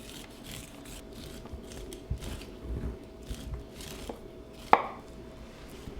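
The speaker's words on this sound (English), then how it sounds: "so just shave off the corn" A knife shaves kernels off a hot corn cob in a kitchen, giving quiet scraping and chopping strokes at an uneven pace, ending in one sharp knock on the board.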